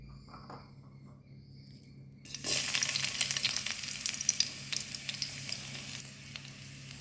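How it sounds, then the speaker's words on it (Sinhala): Garlic drops into hot coconut oil after a quiet start, then a sudden, lively sizzle with crackling pops carries on close and steady to the end. "පොල් තෙල් ටික යාන්තමින් රත් වෙනකොට අපි තරාගත්ත සුදු ලුණු ටික එකතු කරගමු."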